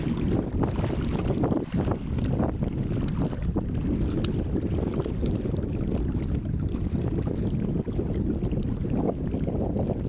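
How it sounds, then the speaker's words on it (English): Strong wind blasts across the huge Desolation Lake in the John Muir Wilderness, heard as a constant loud, low roar buffeting the microphone, with no voices. "The wind tunnel known as Desolation Lake."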